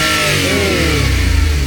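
A Suzuki minivan engine fitted with a power jet revs up from idle under light throttle, a loud rising mechanical whine close by.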